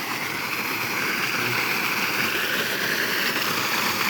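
A pump pulls dirty company wastewater and dumps it, giving a loud, continuous mechanical drone blended with rushing water, steady and unbroken throughout, no talk.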